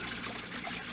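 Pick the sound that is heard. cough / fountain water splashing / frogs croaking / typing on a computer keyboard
fountain water splashing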